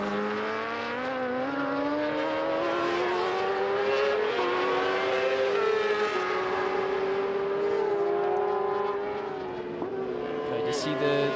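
Two Honda racing motorcycles exiting pit lane at an Asia Road Racing Championship round, their engines whining and rising in pitch as they accelerate, with a commentator's voice running over the top.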